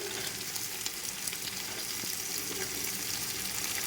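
Potatoes and beans frying in oil for a restaurant-style vegetable biryani, a dense, steady sizzle with faint stirring scrapes and no voices.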